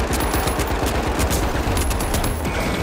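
Rapid automatic gunfire from a weapon in the video game The Finals, loud and close, a dense rattling burst of shots running the whole time with no talk over it.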